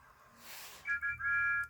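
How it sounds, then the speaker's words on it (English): Toy or cartoon steam engines toot a train whistle together in a quarry, two to three short bright whistle blasts in quick succession after a breathy hiss, fairly clear and alone. "Together, Thomas and Percy happily tooted their best friend's whistle."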